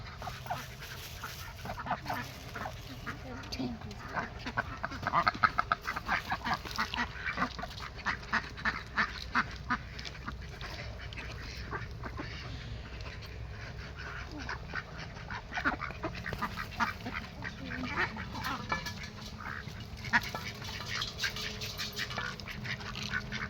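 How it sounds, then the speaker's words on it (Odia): Domestic ducks and geese quacking and honking steadily at close range, with overlapping calls from several birds throughout and no talking. "ଆଉ ସେମିତି ମୁଁ ଦେଖାଉଛି ବତକ ହଂସ ଆଉ ଠେକୁଆ।"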